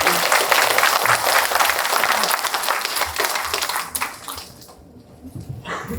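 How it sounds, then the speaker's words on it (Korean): Audience at a city hall vision-sharing event applauds the mayor's entrance, a loud, dense wash of clapping that holds for about four seconds, then softens and picks up again near the end. "큰 박수로 맞이해 주시기 바랍니다."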